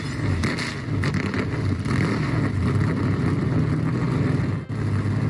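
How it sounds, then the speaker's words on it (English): Dark Horse NASCAR-style race car engine in the Driving Empire video game, a loud, steady rumbling drone with continuous engine noise and brief gear-change dips. "I think the Dark Horse would definitely be the best sounding in my opinion"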